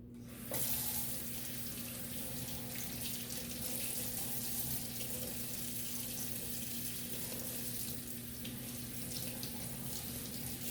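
Tap water pours steadily into a sink to wet the root plug of an Oncidium orchid during repotting. The flow is a constant, close, even hiss that lasts the whole stretch, with no talking.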